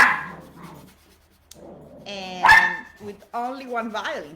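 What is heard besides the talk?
dog barking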